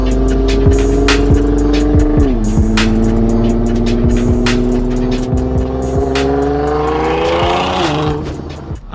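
A lime green Nissan GTR Track Edition approaching with its engine note rising through gear changes, loud and sustained with rumbling, then easing off near the end; no talking.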